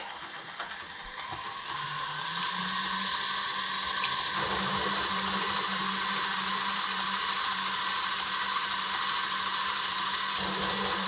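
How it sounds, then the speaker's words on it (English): Egg whites whipped to a froth for Italian meringue buttercream, likely with an electric mixer: a steady mechanical whir that starts after a couple of seconds and runs evenly at close range, with no voices. "the egg whites now has started to froth up, you can see there"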